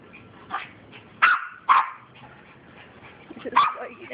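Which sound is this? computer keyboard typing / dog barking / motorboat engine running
dog barking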